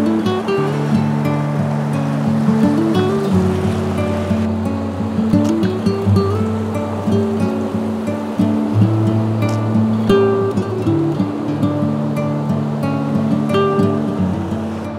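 Ocean waves surge and wash up a beach in a steady, loud roar, with a low rumbling undertone throughout and no voices.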